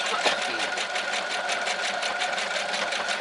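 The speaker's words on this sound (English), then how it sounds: "I never like sewing at the highest speed" Brother RX3340 sewing machine stitching at high speed, a fast, even, loud mechanical clatter close up that runs without pause for the whole stretch.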